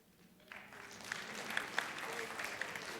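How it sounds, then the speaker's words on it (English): A theater-lecture audience applauds: a room full of clapping swells in after half a second and continues steadily at moderate volume, with no voices over it. "I've never been applauded before for going to the theater"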